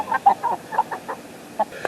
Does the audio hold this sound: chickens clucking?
yes